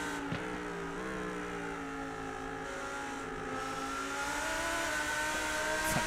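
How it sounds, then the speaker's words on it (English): A Lamborghini GT3 race car engine howls from an onboard view at Watkins Glen, a sustained loud wail with rising harmonic tones as it climbs through the revs, steady and close with no talk. "What an incredible sounding car Lamborghini have made."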